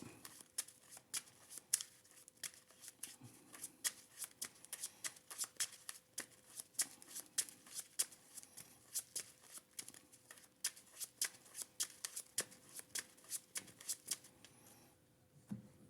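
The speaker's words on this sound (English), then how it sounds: "I'm going to take the deck and shuffle it up." Quiet, close crisp clicks and riffles of cards being shuffled, repeated in quick bursts over and over.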